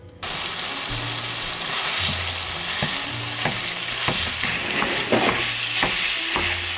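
Ground beef fries in a pan with pepper and onion, giving a loud, continuous close sizzle broken by occasional scraping and stirring taps, and no one talks.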